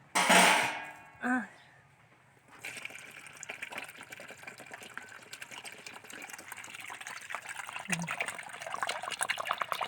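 Water gushes and splashes as it is poured off while black sticky rice is prepared. It starts with a couple of loud near splashes, then settles into a steady trickle with clinks.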